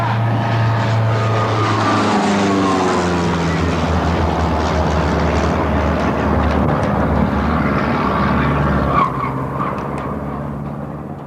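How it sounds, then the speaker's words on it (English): Small Cessna-type plane diving repeatedly toward a postal annex in South Boston, a loud continuous propeller engine roar with pitch sweeping as it dives, fading near the end. "That's the sound of a small plane repeatedly diving down out of the sky toward the South Boston Postal Annex"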